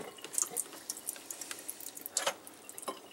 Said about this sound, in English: Pour your eggs back in the strainer.